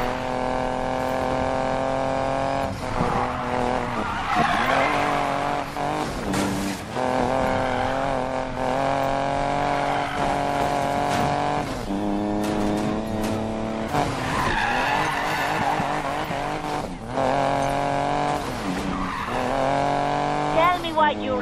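Racing cars in Need for Speed Payback skid and squeal their tires through a loud, continuous run of engine roar and game music, with repeated sliding screeches and a voice talking at points.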